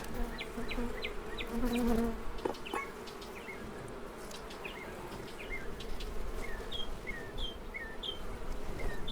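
Bees buzz steadily in a low, close hum, with faint bird chirps scattered over the drone.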